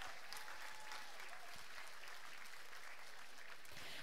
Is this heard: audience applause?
yes